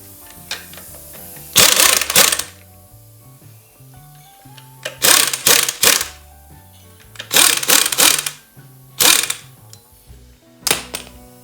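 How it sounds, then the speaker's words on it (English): An old Chicago Pneumatic air impact wrench spins rear axle nuts loose on a Mopar 8 3/4 rear end, firing in four or five loud, short hammering bursts separated by quiet pauses. "I'm also not using my strong impact. I'm using the Chicago pneumatic that I've had for 30 years."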